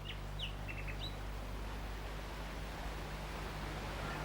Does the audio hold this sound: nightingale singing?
yes